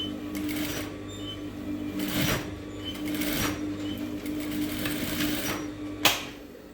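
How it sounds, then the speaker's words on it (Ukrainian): A sewing machine stitches a garment lining seam along the facing edge, running in short whirring bursts with brief pauses between them, close and clear over a low background hum, ending in a sharp click. "Старайтесь ви коли шиєте, щоб не розтягувати шов."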